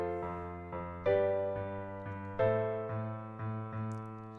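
Piano-like chords play a dominant-to-six-minor deceptive cadence, a series of sustained chords struck one after another at a steady, moderate pace, with two louder accented strikes, heard alone without talking.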